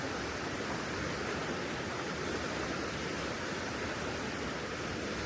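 Constant rushing water of Slippery Rock Creek, a broad even hiss like a river flowing nearby over large boulders beside a trail in McConnells Mill State Park, steady throughout with no voices.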